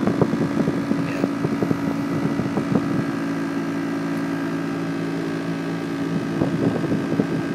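The failing blower fan inside a 2002 Dodge Ram truck cabin gives a loud, steady whirring roar with a constant tonal hum and rattling flutter, running throughout with no talking.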